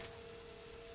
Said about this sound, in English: droplet of rain